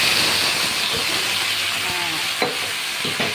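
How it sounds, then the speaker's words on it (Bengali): Hot water is poured into a pan of frying taro curry, producing a steady loud hiss and sizzle with a few clanks of a utensil near the end. "এবার আমি গরম জল দিয়ে দিলাম অবশ্যই গরম জল"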